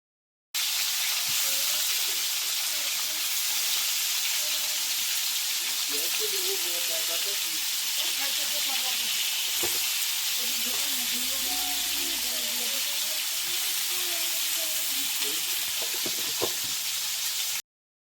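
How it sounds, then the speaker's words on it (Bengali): Snakehead fish frying in mustard oil in a wok, a constant bright hiss and sizzle held at an even level, with a voice talking over it through much of the clip. "দেখুন কত কম তেলে আমি মাছগুলো ভেজে নিলাম"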